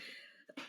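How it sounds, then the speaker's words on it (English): A short cough, close and fairly quiet, in a podcast setting: a breathy lead-in and then two rough bursts within under a second. "Chad, I have a coughing issue"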